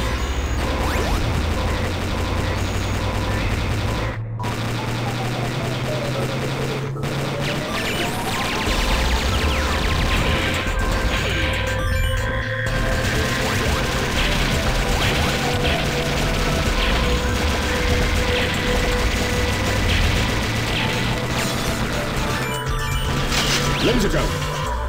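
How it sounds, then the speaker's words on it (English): Heavy machine gun fire and surrounding game action in Metal Slug 6 play as a dense, busy stream of repeated shots, crashes and mechanical clatter, with game music and effects layered loudly throughout. "Heavy machine gun."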